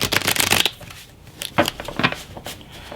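Tarot cards are shuffled in quick riffling bursts, a longer flurry at first followed by a few shorter shuffles and soft taps.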